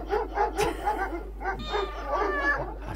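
A dog barks and yips repeatedly up close in a series of short, rhythmic bursts, with a few whimpering, higher-pitched cries mixed in near the end.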